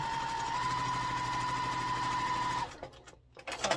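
A sewing machine runs steadily at close range, stitching quilt block pieces together for an Eleanor Burns sampler quilt Colorado block, a continuous whirring hum that stops partway through, followed by a few faint handling clicks and rustles.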